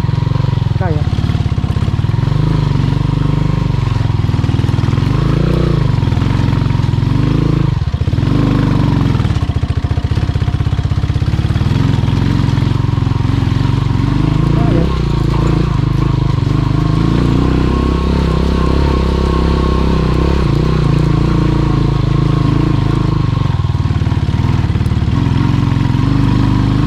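A motorcycle engine runs loud and steady throughout a ride up a slippery mountain road in Sapang Uwak, Porac, Pampanga, its note rising and falling with throttle changes under constant wind rumble.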